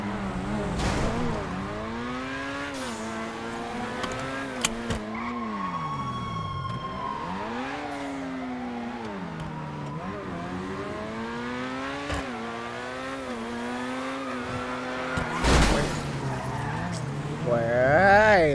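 A car weaves through traffic in GTA V, its engine note rising and falling steadily with tire skids and squeals, loud and continuous, a brief sharp bang near the end.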